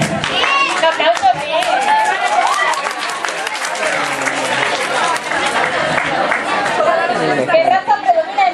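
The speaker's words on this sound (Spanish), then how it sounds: "¡Respuesta correcta! ¡Un aplauso!" A crowd at a fan gathering claps and cheers after a correct quiz answer, loud, dense applause mixed with excited chatter and shouting voices filling the whole stretch.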